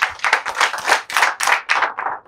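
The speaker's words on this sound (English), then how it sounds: "Can we give a very big clap for them?" A school audience claps for students who are national robotics champions, a close burst of several hands beating in quick, uneven rhythm, loud and distinct, with brief pauses between flurries.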